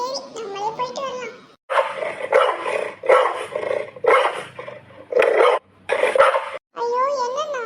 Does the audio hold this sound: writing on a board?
no